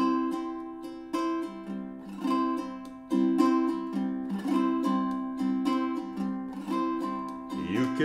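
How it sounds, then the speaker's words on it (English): A ukulele strummed in an island pattern with an added fan strum, bright repeated chords in a steady lilting rhythm, close and clear with no talking. "I am doing a combination of adding a fan strum to the second down in an island strum."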